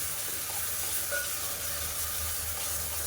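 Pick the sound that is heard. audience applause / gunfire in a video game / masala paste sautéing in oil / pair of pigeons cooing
masala paste sautéing in oil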